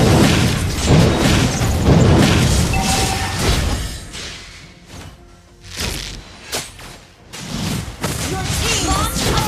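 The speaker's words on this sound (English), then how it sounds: "Our turret has been destroyed." A turret is destroyed in Mobile Legends, heavy booming blasts and crashing impacts with whooshes, loud at first, then a quieter stretch of scattered thuds before the explosive bursts return.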